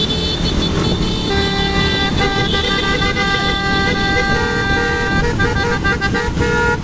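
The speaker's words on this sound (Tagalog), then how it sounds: "Oh, kotse, kotse!" A car passes close by during a cycling road race stage, its horn tooting in short repeated blasts over loud road and wind noise.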